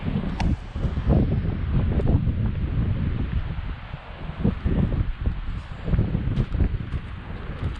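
Gusty wind buffets a microphone in a park on a blustery day, a loud, rumbling roar that surges and fades in irregular bursts with no voice over it.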